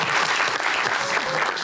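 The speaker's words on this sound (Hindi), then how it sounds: "इसके लिए तालियां बजाएं।" A studio audience at an Eid special TV broadcast applauds in a short, steady burst of many hands clapping together, loud and continuous.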